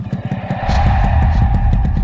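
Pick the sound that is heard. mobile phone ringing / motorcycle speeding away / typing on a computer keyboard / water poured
motorcycle speeding away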